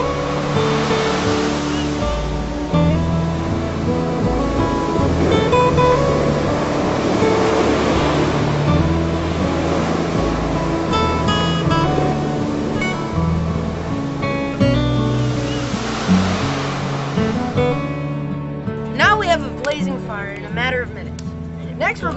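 Ocean surf rolls in at San Clemente State Beach, a loud, continuous wash of breaking waves with swelling surges, accompanied by faint music-like tones and a burst of chirping near the end.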